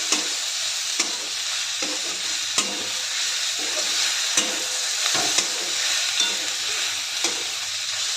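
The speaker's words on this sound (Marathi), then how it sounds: "त्यानंतर भेंडी घालून चांगलं परतून घेऊया." Okra frying with crushed garlic in a village-style Maharashtrian vegetable dish, a steady close sizzle running throughout, broken by regular scraping stirs about once a second.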